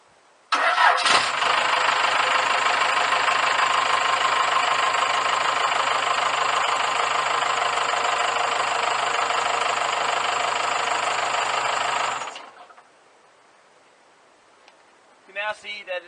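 A turbocharged 3.9-litre four-cylinder Cummins 4BT diesel fitted in a Chevrolet Silverado starts up and runs loud and steady for about eleven seconds, then cuts off and leaves near silence, with a few faint knocks near the end.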